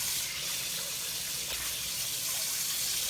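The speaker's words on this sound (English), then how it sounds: "what we do is just go in here, rinse off our stuff, take it apart" Water runs steadily from an ozone faucet into a sink while items are rinsed, a continuous close hiss and splash throughout.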